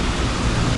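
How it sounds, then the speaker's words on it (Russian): Dense, loud wash of rain pouring down in Adler, a constant hiss with low rumbling underneath, no voices. "дождь идет в Адлере"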